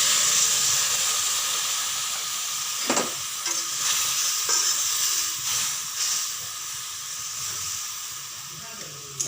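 Khar curry with fried fish, coriander and salt simmering in a pan, giving a steady bubbling hiss with a few faint clinks, close and without talk.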